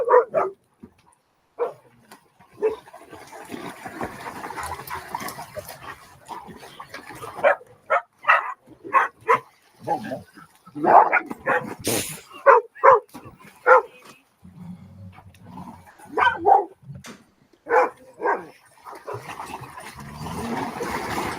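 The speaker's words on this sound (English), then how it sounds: "mine are hearing these guys barking" Several dogs bark in short, uneven bursts of yaps and woofs outdoors beside a pool on a hot day, with some quieter gaps between volleys.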